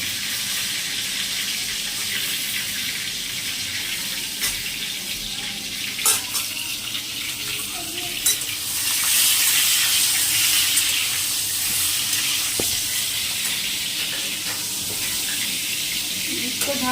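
Eggplant kalonji frying village-style in a pan on a gas stove, a steady close sizzling hiss with scattered small pops and splatters that swell louder partway through.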